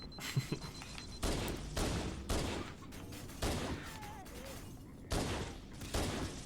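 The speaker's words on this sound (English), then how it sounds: "the pistol does actually have an automatic fire if you just hold the trigger down" Pistol automatic fire in Halo: Combat Evolved, with repeated bursts of rapid shots at roughly one-second intervals, moderately loud amid game background sounds.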